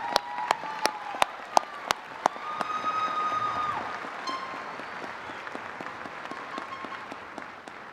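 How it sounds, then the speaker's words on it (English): Scattered single claps build into light, thin applause from a university commencement audience for graduates, with a faint steady tone and crowd murmur underneath. "Please join me in applauding the graduates from the College of Applied Science and Technology"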